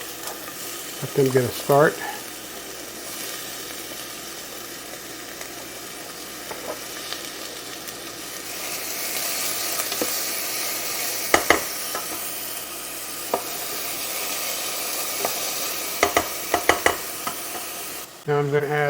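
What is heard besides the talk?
onions sizzling in warm oil in a pan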